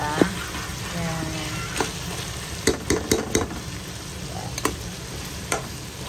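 Chicken sautéing with garlic, onion and ginger for tinola gives a steady, close frying sizzle, with scattered sharp clinks and scrapes of stirring. No one speaks.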